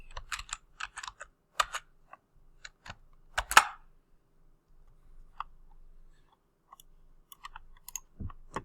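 Keys on a computer keyboard are tapped in quiet, irregular bursts of light clicks, close and alone, with pauses between short runs of typing.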